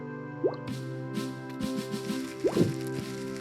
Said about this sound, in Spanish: nos hace daño la salpicadura